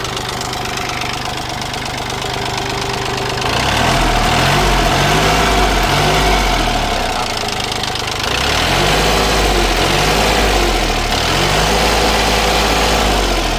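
A Sunshine 18.5 hp three-cylinder two-axle tractor with attached plough engine revs from a loud rattling idle up to higher speed twice, its diesel knock rising and falling in repeated surges, close and without talk.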